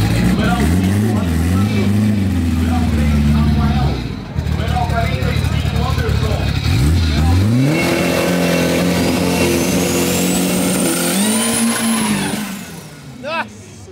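A Gol 4x4 car does a burnout, its engine revving hard and loud throughout with rising and falling pitch sweeps and tyre roar, a brief dip midway, then a high squeal climbing near the end.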